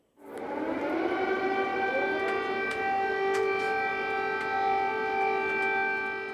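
Air raid sirens wail at night over Kyiv, a loud sustained tone that rises sharply then holds steady for several seconds, with other sirens layered in the distance and no talking.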